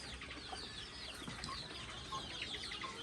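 Local deshi chickens on a farm cluck softly and steadily, a dense mix of overlapping calls across a busy flock rather than one bird.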